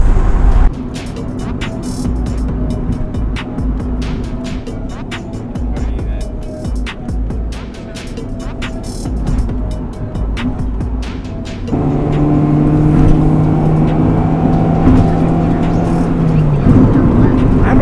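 A car engine drones loudly throughout, climbing in pitch past 4,000 RPM, with a shift to a higher, stronger roar toward the end. No talking.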